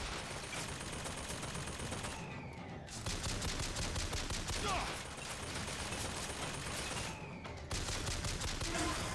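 Rapid carbine fire in the video game BioShock Infinite rattles in dense bursts with brief pauses, broken by short gaps and mixed with game effects.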